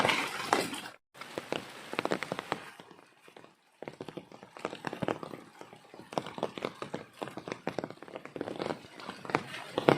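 Steady patter of rain with scattered drops tapping a hard surface, briefly cutting out twice, with faint movement in the background, in Lagonoy, Camarines Sur.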